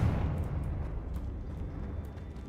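A Confringo blasting spell goes off in a video game as a single low, rumbling blast that decays over a couple of seconds, heard alone.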